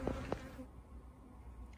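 Honey bees buzz around hives on a farm, a steady close drone of many wings, fairly faint, with a couple of brief louder passes near the start.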